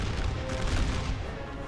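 Massed 3-inch ordnance cannons firing in a hardcore American Civil War battle game, heard as a dense, continuous rumble of distant gunfire and booms with no clear single shots.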